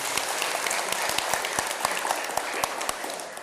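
Audience applause at a talk on meditation and aging, dense and steady clapping from many hands with sharp individual claps standing out, fairly close and sustained throughout.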